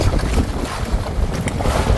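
Loud wind buffeting the microphone over churning sea waves during fishing with a buya-buya, a rough, continuous roar with gusty swells.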